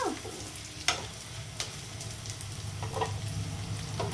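Onions fry and sizzle in a pan for a tomato bath rice dish, a steady close crackle with a few sharp scraping stirs of a spoon punctuating it.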